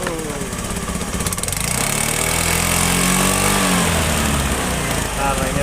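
A Honda Beat motorcycle engine, an older model fitted with a Tiger regulator, revs up from idle and swells to a loud, steady drone, close and continuous for several seconds.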